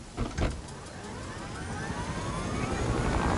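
A helicopter in the video game Fortnite whirs steadily, its engine drone rising and growing louder over a few seconds after two brief thumps at the start.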